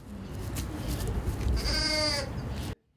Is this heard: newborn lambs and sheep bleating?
yes